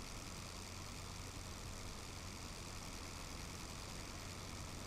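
A Sopwith Camel's engine roars during takeoff in the flight game Rise of Flight, a loud, steady, continuous drone with no pauses or talk.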